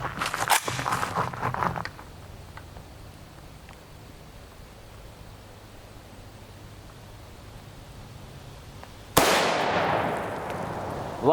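A 7.62x39mm rifle firing a 124gr BTHP round into a ballistic gel block at an outdoor range, one sharp loud report near the end after a quieter stretch, with an earlier burst of noisy bangs at the start.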